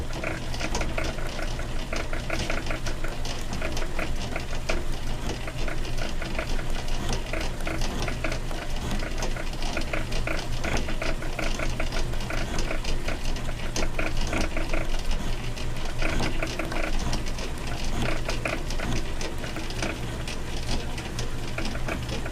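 Atlas 10-inch metal lathe running steadily under manual feed, a loud continuous machine drone with a low hum and fine ticking chatter throughout, no talk.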